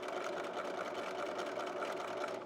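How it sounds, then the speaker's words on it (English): Sewing machine edge stitching along a fabric fold on a zipper clutch handbag, a continuous close motor hum with fast, even needle pulses throughout, no voices. "you're stitching along the edge of the fabric"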